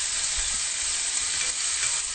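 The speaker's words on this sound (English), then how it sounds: "Frying it in a pan." Salt pork fries in a pan with a steady, bright sizzle and crackle, close and continuous with no voices.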